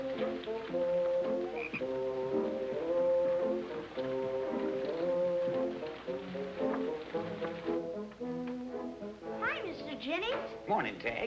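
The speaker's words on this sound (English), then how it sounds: "A real live frog, and his name is Hector." Frog croaking over a bed of old television music, low steady croaks repeating through the passage with someone speaking briefly near the end.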